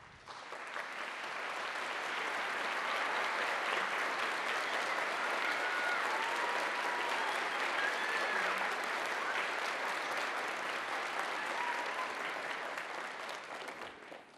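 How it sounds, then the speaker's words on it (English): Applause at an elementary chorus concert: a large audience claps steadily, swelling in over the first seconds, holding full and dense, then tapering off near the end. "we would like to recognize them with a round of applause"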